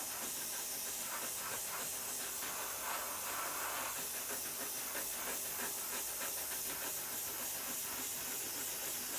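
An airbrush sprays metallic lacquer paint, a steady, continuous hiss at close range with no break and no voices.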